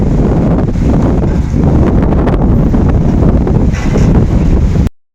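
Strong, steady wind gusting outdoors in the aftermath of Typhoon Uwan, loud and continuous rumbling buffeting against the microphone for about five seconds before cutting off abruptly.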